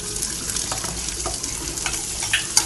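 Onion frying in oil with curry leaves sizzles steadily up close, with light spatters and occasional scrapes of a spoon stirring through the pan.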